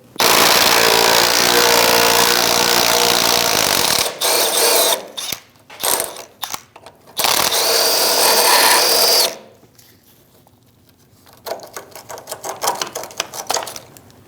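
A power tool with a 13mm socket spins out a sway bar link bolt on a 2001-2006 Chevrolet Silverado 2500 HD, loud sustained whirring bursts with short pauses, followed by quieter ratcheting clicks.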